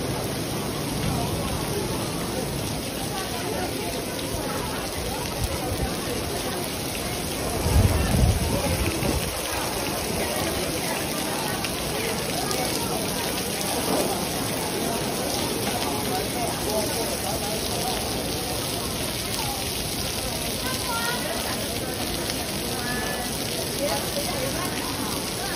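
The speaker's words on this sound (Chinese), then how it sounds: "沙漠里面下这么大雨，呼兰布和沙漠第一次见啊" Heavy downpour in the Ulan Buh desert of Inner Mongolia, a steady dense roar of rain hissing on the ground throughout, with a brief louder burst about a third of the way in.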